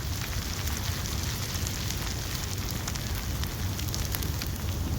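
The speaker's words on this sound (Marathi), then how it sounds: "तर आता अद्रक लसूण ना परतून घेतली मी" Ginger garlic paste sizzles in a hot pan while being sautéed for a squid masala, a steady, dense crackling hiss that continues without pause.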